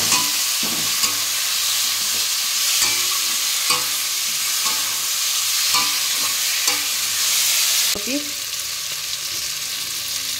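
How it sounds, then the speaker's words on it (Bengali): Potato and cauliflower being stir-fried with spices in a pan, a steady sizzle broken by repeated scraping and clinking strokes of a spatula, close and fairly loud, with the frying hiss easing off toward the end. "এবার আলু ফুলকপি দিয়ে দেবো। ভালো করে মশলার সাথে মিশিয়ে নিই।"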